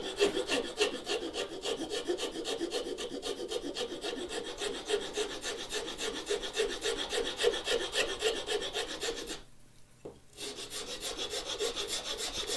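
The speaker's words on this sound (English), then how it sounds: "I'm actually going to skip straight to a file." Steady back-and-forth rasping of a file and rasp on wood while shaping a simple one-hand book holder, continuous close strokes with a brief pause near the end.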